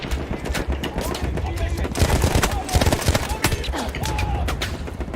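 Rapid gunfire in the Battlefield 1 video game during a desert battle, dense overlapping shots and bursts crackling almost continuously and loudly, with brief speech mixed in the background.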